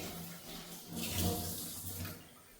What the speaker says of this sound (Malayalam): എന്നിട്ട് നമുക്കുണ്ടല്ലോ ഈ പാത്രം കഴുകി ഒരു ശകലം വെള്ളം കൂടെ അതിലേക്ക് ഒഴിച്ചു കൊടുക്കാം.